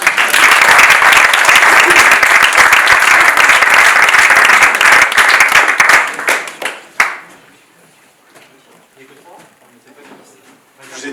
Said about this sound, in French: On les applaudit quand même.